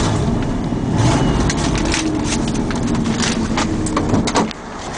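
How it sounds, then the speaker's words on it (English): A Ford F-Series box truck with a 7-liter gas V8 and 5-speed idles and runs steadily, a constant close engine rumble with some broadband mechanical noise and a brief drop near the end. "Motor sounds good."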